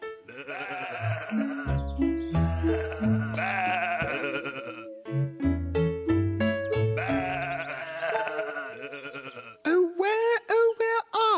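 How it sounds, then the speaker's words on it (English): Sheep bleating in a children's ballet song rises over a busy melodic music track, with loud, wavering cries repeated through it and a final clear bleat at the end. "Sheep."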